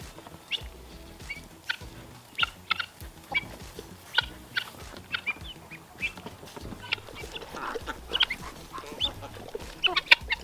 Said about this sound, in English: Happy chickens and guineas.